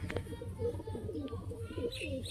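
A male teddy pigeon of the Sialkoti type gives low, rolling coos up close, repeated in quick bursts, with someone talking faintly in the background.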